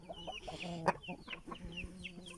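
Hens and a rooster cluck together in a coop, a quiet jumble of short calls with one sharper squawk near the middle, heard fairly close.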